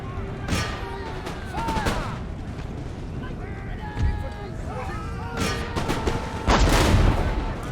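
Cannon and musket gunfire in the Empire: Total War battle game, with several loud booming blasts and crackling volleys at irregular intervals, mixed with game sound effects.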